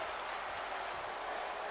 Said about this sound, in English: And the crowd is on fire.